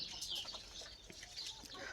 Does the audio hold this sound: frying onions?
no